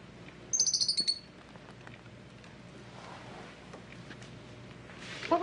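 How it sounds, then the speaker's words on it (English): Lovebirds give a quick burst of shrill, close chirps early on, then a few faint tweets near the end, over a quiet room background with a soft patter. "They're lovebirds."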